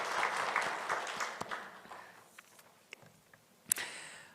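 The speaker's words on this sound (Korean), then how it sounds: "우리 박수로 한번 격려하도록 하겠습니다" A congregation at a Sunday church service applauds, a moderate wash of clapping that fades out over a couple of seconds, followed by a few isolated knocks and a brief rustle.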